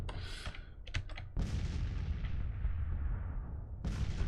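Cannon artillery in Grand Tactician: Civil War booms in sharp, loud reports, several quick bursts followed by a long rolling blast that slowly decays, then another heavy shot at the end.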